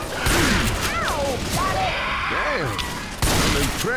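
Rapid bursts of gunfire in Left 4 Dead 2 crackle over a busy mix of zombie game effects, with people talking throughout.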